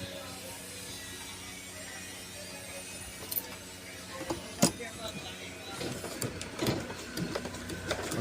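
A sewing machine starts stitching with a needle fitted backwards, its mechanical clatter building from a low running hum into rapid uneven ticking and knocks toward the end.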